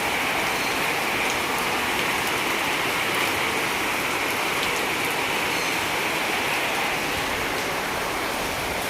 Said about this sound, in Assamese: আজি মানে ৰাতিপুৱাৰ পৰাই পূৰা বৰষুণ